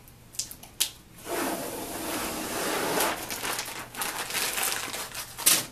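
Palette tape being peeled off and crumpled after screen printing, a few sharp ticks followed by a sustained close crinkling and crushing rustle.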